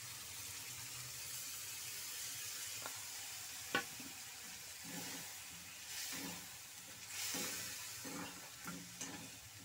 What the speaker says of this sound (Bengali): আমি এইবারে এই বাটি ধোয়া জলটা দিয়ে দিচ্ছি।